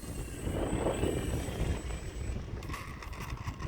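An E-flite Valiant 1.3m RC plane flies in to land at about a quarter to a third throttle, its electric motor whirring steadily over a constant background of wind.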